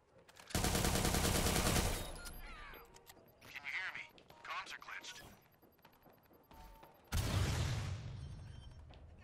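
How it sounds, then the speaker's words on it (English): Rapid gunfire erupts in Watch Dogs 2, a loud sustained burst of shots at the start and another near the end, with shouting and voices in between. "Shots fired!"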